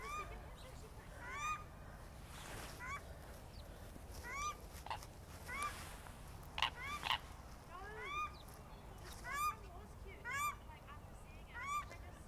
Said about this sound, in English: this is the paradise duck coming, making that noise